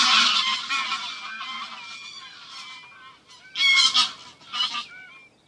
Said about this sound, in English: Neighbours clatter and honk as they pass, including these noisy resident greylag geese.